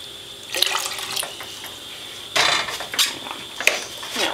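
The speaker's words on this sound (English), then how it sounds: "I'm going to start by adding just a half a cup of vinegar." Half a cup of vinegar splashes into a pot holding eight cups of water for a yarn dyebath, giving a nearby pouring gurgle with bursts of louder splashing and a few drips.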